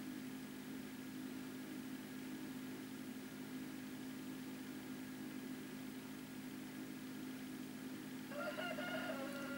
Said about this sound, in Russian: Петух кричит за окном.